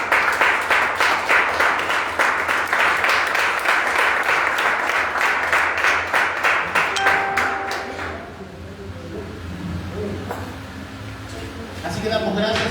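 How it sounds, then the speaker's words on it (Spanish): A church congregation at a Wednesday service claps loudly and steadily for several seconds, then the clapping thins and fades, leaving scattered claps, clinks and murmuring voices. "Den un fuerte aplauso al que vive"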